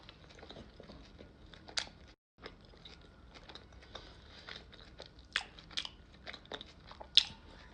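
Burrata with mango sauce being bitten and chewed close up: soft wet chewing and mouth noises with a few sharper crunch-like clicks, quiet and continuous, with no talking.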